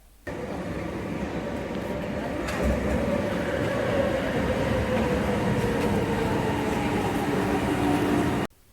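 A Kuala Lumpur metro train rumbles steadily from inside the carriage, a continuous loud roar of wheels and motor with faint clicks and a brief squeal, holding evenly for several seconds before cutting off.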